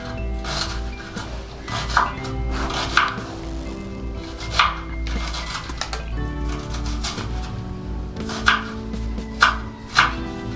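Vegetables, including onions for chips mayai, chopped into small pieces on a board: a run of crisp knife taps in irregular bursts, close and moderately loud, with no talking.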